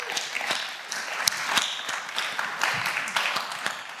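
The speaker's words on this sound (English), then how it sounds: "Can we give her a round of applause?" Audience in a church talk hall applauding a guest, an even patter of many hands clapping at moderate volume, with a faint voice briefly underneath.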